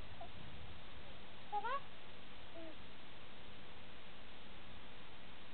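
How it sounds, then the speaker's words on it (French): A small kitten gives one faint, brief meow in a quiet indoor room, heard alone against steady background hiss. "Le petit chat, il est là, le petit chat,"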